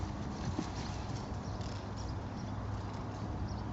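Horse hooves in a steady loping rhythm, soft repeated clip-clop at moderate distance with a low continuous background rumble, no talking.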